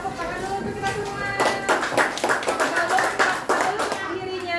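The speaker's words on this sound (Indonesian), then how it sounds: "Tepuk tangan dulu untuk kita semua." Classroom clapping from a group of pupils, starting quietly then bursting into several rhythmic rounds of close, sharp hand claps, with a teacher's voice and children's voices around it.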